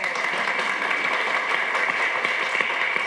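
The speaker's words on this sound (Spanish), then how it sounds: "Ahí está, aplausos" An audience at a public talk by Rosita Pelayo about her illness breaks into steady, dense applause that fills the room evenly throughout, with a faint murmur of voices beneath.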